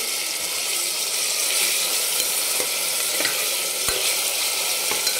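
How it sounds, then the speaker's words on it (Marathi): Large chunks of chopped tomato sautéing in a pan for a black mutton curry, a loud, steady sizzle with occasional scraping stirs and clicks. "तो टाकायचा आपल्याला आणि त्यालाही छान परतून घ्यायचं"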